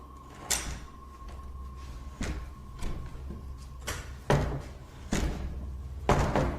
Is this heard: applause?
no